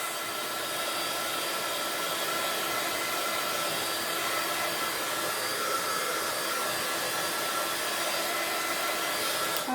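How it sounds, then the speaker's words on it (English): A heat tool or hair-dryer-style blower roars steadily and loudly while drying a stamped craft background, an unbroken whooshing hum with no talking. "sorry about all that noise and that drying time that goes on"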